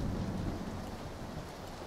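Rain falling in PlayerUnknown's Battlegrounds, a steady hiss of rainfall with a low rumbling undertone, fairly quiet and continuous.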